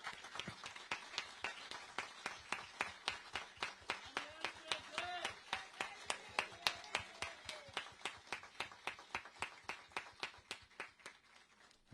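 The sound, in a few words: audience applause at ceremony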